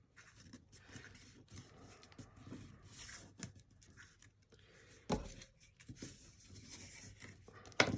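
Paper folded by hand along scored lines to form an envelope box gives soft, close crinkles, scrapes and taps, quiet and irregular, with a sharper crease snap near the end.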